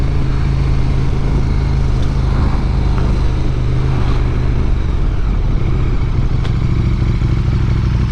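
KTM Super Duke 1290 GT motorcycle ridden on open roads, its engine a loud, steady low growl with wind rush heard from the saddle, pitch shifting slightly partway through, no speech over it.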